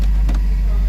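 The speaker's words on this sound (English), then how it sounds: "Let me just start the car now" Engine of a 2008 BMW X5 E70 idling just after starting, a steady low rumble that fills the clip with a brief higher whir near the start, close and fairly loud.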